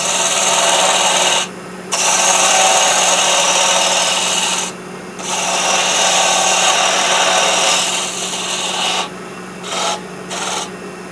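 A wood lathe turns a peppermill blank while a tool cuts the tenon, making a loud continuous scraping, rasping hiss over a steady hum, broken by a few brief lifts of the tool, without any talking.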